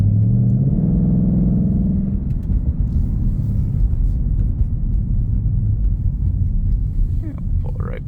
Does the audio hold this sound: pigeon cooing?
no